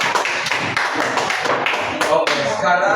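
A small group claps with quick, uneven hand slaps and taps, fairly close, while a voice speaks briefly over the applause.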